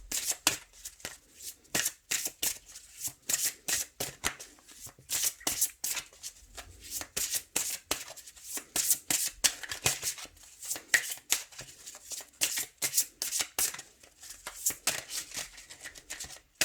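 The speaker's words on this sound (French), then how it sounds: "Je vais couper et on va les voir tout de suite pour vous." Tarot cards are shuffled close by in a long run of crisp, rapid riffling bursts separated by brief pauses, with no talking heard.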